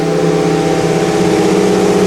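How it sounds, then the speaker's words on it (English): A loud, steady Jeep CJ7 engine idles nearby during break-in of a restored engine, with a constant low rumble and faint mechanical hum, unbroken throughout. "we're breaking in the engine"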